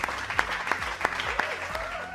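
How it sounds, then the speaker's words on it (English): A few people clap in loose rhythm for a preschool story moment, roughly five or six sharp claps spaced evenly, with a voice speaking over them throughout. "Let's all clap for Joseph and Potiphar."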